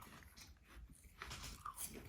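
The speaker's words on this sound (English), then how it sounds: "listen to that crunch" A crisp Lady Alice apple is bitten and chewed close to the mic, giving dense, wet crunching over about two seconds with no talking.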